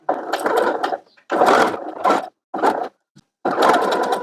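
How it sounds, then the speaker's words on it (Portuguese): A sewing machine stitches fabric pieces of a lined child's dress together in several short bursts separated by brief pauses, close and fairly loud. "vamos lá na máquina, passar a costurinha para unir todas essas partes"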